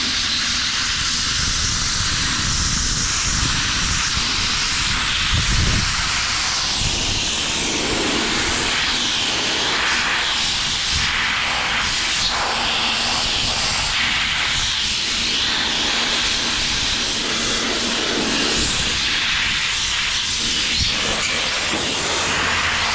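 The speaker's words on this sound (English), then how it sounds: "This one really is a brake clean pressure washer." Brake cleaner fired from a spray cannon onto the timing cover of a Subaru Forester 2.5 gives a loud, steady, pressurized hiss that runs unbroken from start to finish, with no talking.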